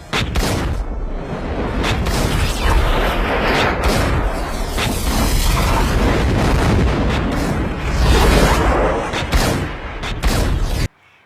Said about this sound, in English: he fights the agents and dodges the bullets effortlessly